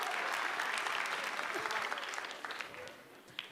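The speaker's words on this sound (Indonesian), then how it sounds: "Tepuk tangan untuk Eja Saputra." A comedy competition audience's steady applause, dense and lively at first, then thinning and fading toward the end.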